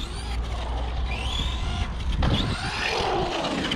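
A Kyosho Mad Van RC car drives around nearby, its electric motor whining and rising in pitch as it speeds up, with a continuous moderate buzz.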